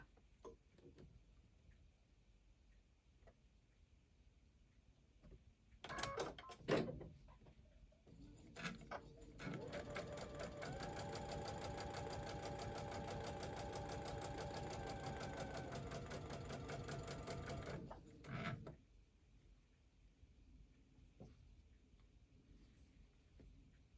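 Sewing machine stitching quilt fabric for a pre-cut cotton tree of life quilt, running in one steady continuous burst of about ten seconds after a few short starts, loud and close with no talk.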